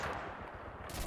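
Rapid suppressing gunfire in the game Mud and Blood: one brief continuous burst of overlapping shots, loud and close, with no talking.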